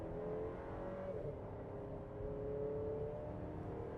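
A 2025 Buick Enclave in sport mode with all-wheel drive accelerates from a standstill toward 60 mph, giving a steady, muted engine drone with a rising whine heard from inside the cabin and no talk.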